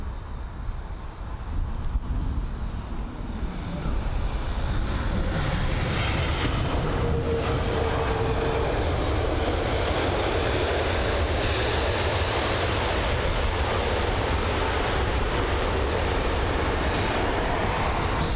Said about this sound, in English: The LOT Polish Airlines 77 MAX 8 just about to touch down now from Warsaw.